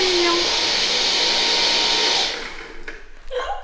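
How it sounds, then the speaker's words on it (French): A household vacuum cleaner runs loud and close with a steady roaring whine, then cuts off after about two seconds, leaving quiet handling noises. "elle n'a pas peur de l'aspirateur, au contraire"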